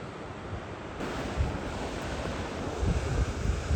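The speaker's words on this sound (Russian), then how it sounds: "Нормальные же волны." Ocean waves breaking on a surf beach in Vladivostok, a loud, continuous roar of surf mixed with wind buffeting, with heavier wave surges building near the end.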